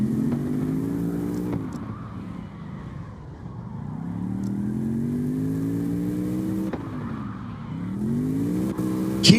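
A race car tears off the line during a qualifying round, its engine note climbing in repeated hard revving sweeps, loud and close, with brief shifts between pulls and no talk.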